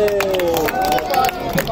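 A street crowd at an Indian monkey show claps amid loud chatter and a showman's voice, the scattered hand claps mixing into a busy outdoor babble close by.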